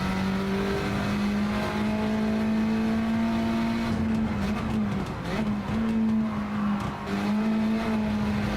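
A race car engine drones in a racing sim driven with a Fanatec GT DD Pro wheel, a loud sustained tone that dips and wavers as the car brakes and shifts, with no talk.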